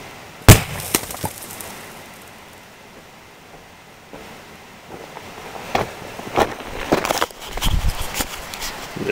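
A Micro Blaster charge splitting rock outdoors, heard as one sharp, loud crack early on, then wind noise and scattered clatter and debris hits.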